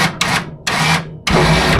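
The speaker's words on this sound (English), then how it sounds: "I'm just going to simply take up on the synthetic rope with the winch." A winch on a CanAm Outlander ATV reels in synthetic rope in three short bursts of loud electric whirring, each separated by a brief stop, the last burst running on steadily.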